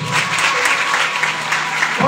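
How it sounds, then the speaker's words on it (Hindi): An audience at a Christian worship gathering claps loudly and continuously in dense, sustained applause that fills the whole stretch, with a brief drop and swell near the end. "जोरदार ताली बजाएं।"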